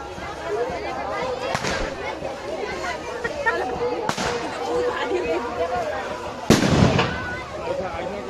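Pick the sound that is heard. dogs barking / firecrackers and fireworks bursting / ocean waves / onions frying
firecrackers and fireworks bursting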